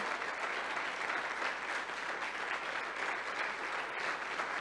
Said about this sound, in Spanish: vamos a darle un fuerte aplauso al Señor, a su palabra